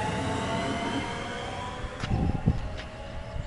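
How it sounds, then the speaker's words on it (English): A train rumbles steadily at a moderate distance at Ljutomer Mesto station in the Slovenian countryside, with a few clanks and knocks rising near the end. "There's our train."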